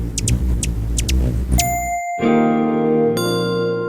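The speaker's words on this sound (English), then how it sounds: "That's the sound of a hummingbird pollinating our world and making it a better place." A short chime effect: quick bright tinkles over a low rumble, then clear sustained ringing tones that layer and shimmer.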